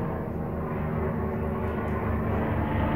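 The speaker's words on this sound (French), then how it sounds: "C'est même pas un avion, c'est un hélicoptère." A helicopter passes overhead indoors, a steady, loud low rumble with rhythmic rotor pulsing that fills the whole stretch without a break.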